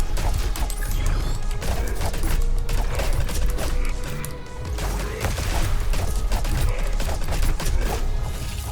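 Gunfire and combat in the action game Hyper Light Breaker, a dense, continuous barrage of shots, impacts and crashes layered with game sound effects, loud and busy throughout.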